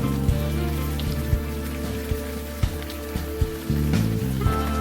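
Steady rain falls on the city streets of the video game Unavowed, a soft continuous patter with scattered heavier drops, set against a low sustained musical backdrop.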